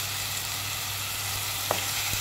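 Chopped tomatoes fry in a pan of curry with a steady, hissing sizzle close by, broken by one or two faint clinks of a spoon, and no one speaks.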